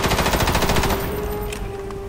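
Rapid machine-gun fire from the video game Front Mission Evolved: a fast, even stream of shots for about a second, then a fading ringing tail with a couple of faint after-pops.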